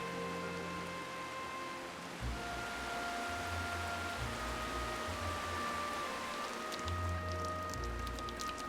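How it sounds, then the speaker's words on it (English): Rain falling during a short-lived summer thunderstorm over a wildlife garden, a steady dense hiss of drops with low rumbling swells underneath and a few brighter pattering bursts near the end. "a thunderstorm, but it's short-lived with only 7mm of rain."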